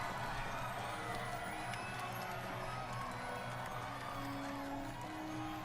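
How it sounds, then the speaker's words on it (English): An animated crowd applauds and cheers in a steady, dense wash of clapping and whoops that holds at an even level throughout, with no distinct voices rising above it. "Yes, applause!"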